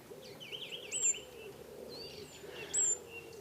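Wild birds calling beside a canal, with a steady run of chirps and warbling song plus two brief sharper high notes, close and moderately loud over a low ambient hum.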